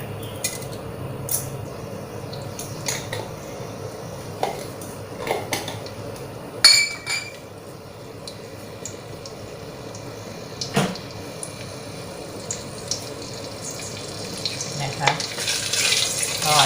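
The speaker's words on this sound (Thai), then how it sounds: "รวนหมู ใส่เกลือลงไปนิดหน่อยนะ" Minced pork stir-fried in a pan: repeated metallic clinks and scrapes of a spatula against the pan over a low frying hiss that grows louder near the end.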